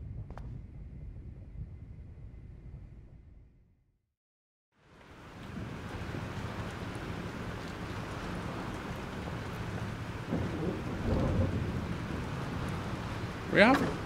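A thunderstorm with rain in the video game Life is Strange: a dense, steady hiss of heavy rain and wind with a low rumble fills most of the clip, after a brief quieter stretch with a voice at the start.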